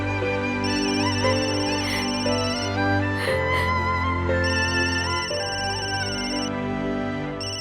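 A phone's ringtone plays loudly and continuously for several seconds, a steady repeating electronic melody signalling an incoming call, with no talking over it.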